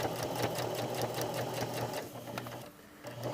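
Sewing machine back stitching a lined patch pocket, a steady close whirring run of stitching that eases off briefly near the end.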